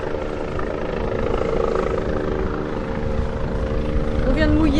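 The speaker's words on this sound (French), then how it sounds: "c'est l'hélico qu'on voit tourner autour de nous, là" A helicopter circles overhead near a boat anchored in a Martinique cove, its steady rotor drone holding loud and continuous while people talk.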